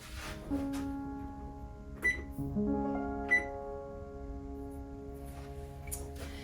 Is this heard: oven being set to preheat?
yes